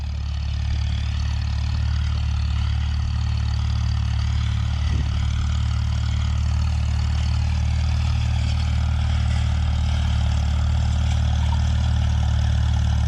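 Steady low rumble of an M tractor engine running at an even pace during winter rye harrowing, a constant close drone with no breaks and no talk.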